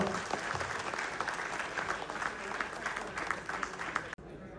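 Audience of children and mothers applauding fathers at a parents' recognition ceremony, a dense, even burst of clapping from a full hall that cuts off abruptly near the end.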